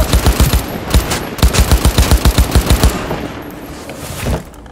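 Rapid automatic gunfire from a Malorian 3516 pistol in the video game Cyberpunk 2077, loud bursts of evenly spaced shots in two rapid strings, then a trailing echo and a softer final blast.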